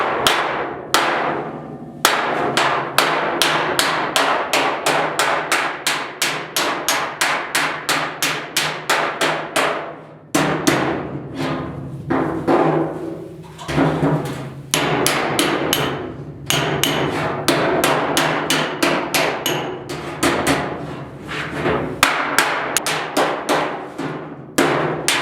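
A hammer and dolly straighten a steel box side panel on a 1972 Ford 4x4 short box truck, striking in fast rhythmic runs of sharp metallic raps, close and loud, with brief pauses between runs.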